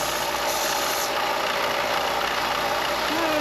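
A belt sander runs steadily while an electric wiper motor from the 1940s is refinished, giving a loud, continuous whirring drone with a high whine and no pauses or talking.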